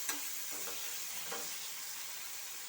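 A faint, steady sizzle from a frying pan as spices, sugar and finely chopped cashews are stirred together, with a few soft spoon taps, no voices.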